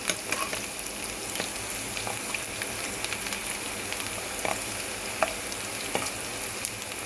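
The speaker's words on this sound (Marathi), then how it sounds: "हे कांदा चांगलं परतवायचं ब्राऊनी कलर येईपर्यंत आणि छान लालसर कलर येईपर्यंत." Onions frying in a pan, a steady close crackle and sizzle with occasional sharper pops and light stirring scrapes, continuous throughout with no talking.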